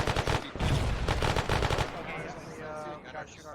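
Rapid bursts of automatic gunfire in the military video game ARMA 3, loud and close, crackling in quick volleys for under two seconds before fading into distant echoes, with radio-style voices talking over it.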